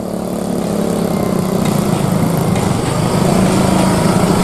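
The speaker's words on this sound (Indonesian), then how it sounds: "pihaknya menggunakan sepeda motor sembari berkeliling di wilayah desa" A motorcycle rides around a village, its engine giving a steady, close droning buzz that holds even and continuous throughout with no voices.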